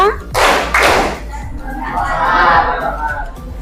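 Students in a classroom clap together in the "tepuk konsentrasi" clapping game, with two strong, loud bursts of claps followed by a longer ragged stretch of clapping and tapping, with children's voices mixed in.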